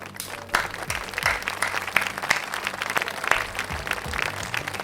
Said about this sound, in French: Eh ben j'applaudis